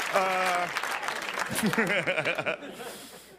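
Audience applause at a stand-up comedy show: a short, dense burst of clapping with scattered chuckles and laughter, a voice speaking as it fades out.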